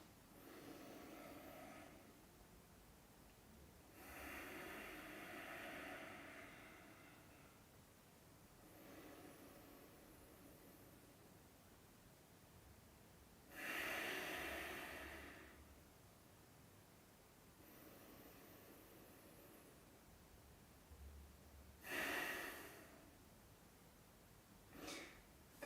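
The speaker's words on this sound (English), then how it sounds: "So 3 deep breaths." Three slow, deep breaths at the close of a martial arts training session, each a soft airy inhale and exhale separated by quiet pauses, faint and with no talking.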